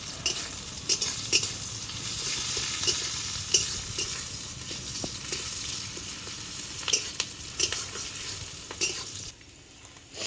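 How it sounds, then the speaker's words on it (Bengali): Onion and green chili fry in a pan with a steady, close sizzle, broken by frequent light scrapes and clicks of a stirring utensil. The sizzle dips briefly near the end. No one speaks. "পেঁয়াজ আর লঙ্কা ভাজা ভাজা হয়ে গেছে।"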